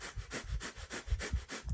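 Fast Kapalabhati yoga breathing: a quick, even series of about eight sharp nasal exhalations pumped by the diaphragm, close and clear with no talking.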